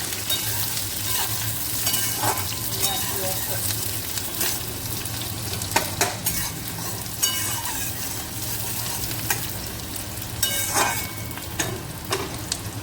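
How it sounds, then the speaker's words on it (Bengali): About one and a half chopped onions sizzle steadily in hot oil in a pan, a continuous close frying hiss with occasional louder scraping and stirring knocks, no talk. "পেঁয়াজটাকে হালকা লাল লাল করে ভেজে নিই"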